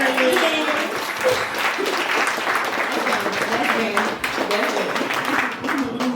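A small audience claps and cheers along with a podcast host, a dense burst of applause mixed with lively overlapping voices and laughter throughout.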